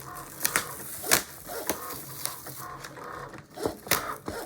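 A Cricut Maker cutting machine runs close by, cutting a stencil from a plastic chopping mat, giving off uneven mechanical whirs and short sharp clicks in irregular bursts, with no talking.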